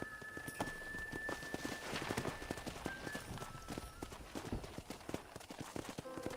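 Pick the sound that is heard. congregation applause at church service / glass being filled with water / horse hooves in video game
horse hooves in video game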